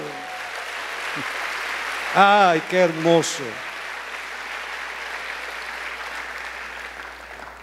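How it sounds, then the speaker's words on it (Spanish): Church congregation clapping for the Lord during a sermon, a steady wash of applause under which a voice briefly exclaims midway. "Denle palmas al Señor."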